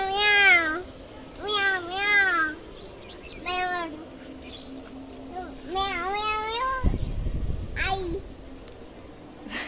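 A cat meows several times in short rising-and-falling cries, close by, over a low steady hum, with a dull thump near the end.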